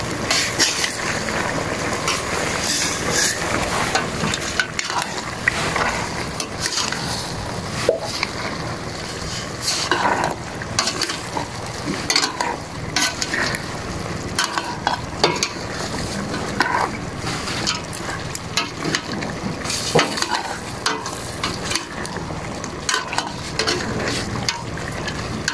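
Thick slices of onion fry in a pan while being stirred, a continuous hissing sizzle with repeated scraping and clattering strokes of the utensil at moderate volume.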